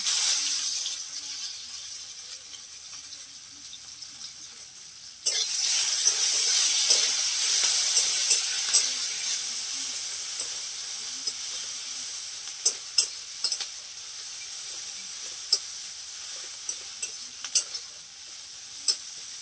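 Chopped onion and ginger-garlic paste sizzle loudly in a hot pan, a steady bright hiss that jumps up sharply partway through, with scattered clicks of a spoon stirring and scraping.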